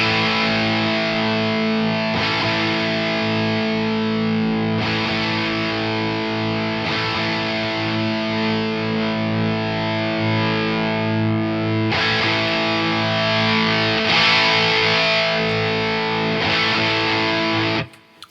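A heavily distorted electric guitar plays through a Friedman Jose amp with the presence knob rolled down, giving a thick, sustained, buzzy tone with chords changing every few seconds, loud and up close, cutting off abruptly at the end.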